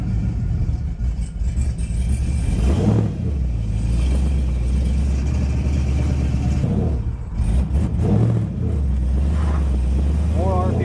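Pontiac Trans Am car on a drive around the block with the clutch recently adjusted, its engine rumbling steadily and rising and falling through several revs and gear changes, close and loud.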